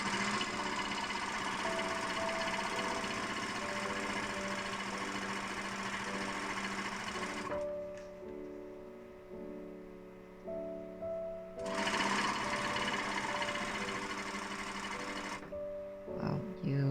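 A sewing machine stitches a seam on a fabric joey pouch in two long, steady runs, its motor whirring and rattling up close, with short quiet pauses between the runs.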